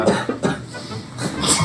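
Several harsh, close coughs break out in quick bursts, separated by a brief pause, loud and breathy against a quiet room.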